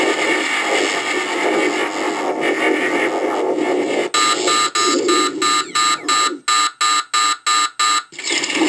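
Proton pack firing effect from a Spirit Wand lights kit: a loud, continuous electronic buzzing blast that turns into a rapid stuttering pulse of on-off bursts toward the end, with no talking.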